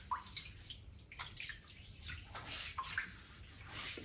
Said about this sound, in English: I'm gonna take the bloom water and add it to my face.